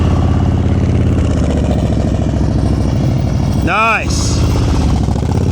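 A motorcycle engine idles and putters steadily at low speed during slow-speed riding skills practice in Texas, close and continuous, with a brief short word spoken over it near the end.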